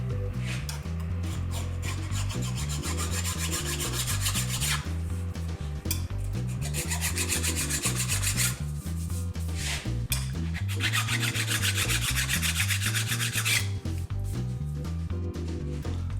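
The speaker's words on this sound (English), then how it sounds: "so I can file smooth the bulges that have been formed on the Formica by tightening the screws." Hand filing on a wooden sled runner covered in Formica, smoothing bulges raised by tightened screws: steady back-and-forth rasping strokes in a continuous close, loud rhythm with brief pauses between passes, no talking.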